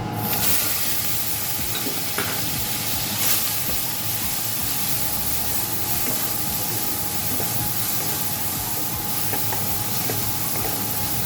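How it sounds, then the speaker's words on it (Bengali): A grated medium-sized onion fries in hot oil over tempered spices for a Bengali prawn and taro curry, giving a loud, steady, unbroken sizzle and hiss that runs the whole time without any voices. "পেঁয়াজটাকে একটু লাল লাল করে ভেজে নেব।"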